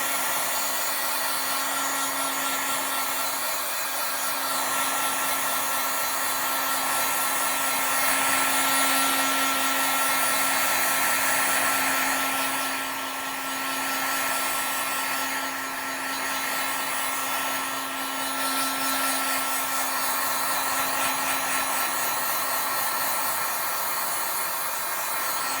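A heat tool blows steadily close by as it dries alcohol ink on Yupo paper. The even, hissing airflow hums on a low tone without pause for the whole stretch, swelling slightly partway through, and no one talks over it.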